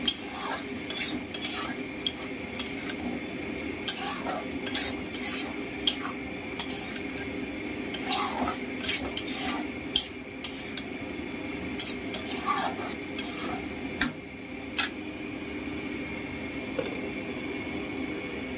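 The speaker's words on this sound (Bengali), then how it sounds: "এবার আমি মিক্সি দেওয়া জলটা একটু দিয়ে দেবো, আরও একটু কষিয়ে নেবো ভালো করে।" A spoon stirs spice masala as it sautés in a pan for a radish dish, with repeated sharp metallic scrapes and clinks over a low, steady sizzle.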